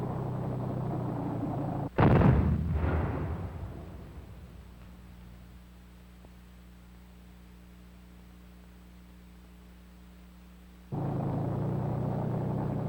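Laser-guided Copperhead test projectile without a warhead striking a tank moving over 20 miles an hour, a sudden loud impact burst that rumbles and fades over a couple of seconds, followed by low steady hum and renewed broadband noise.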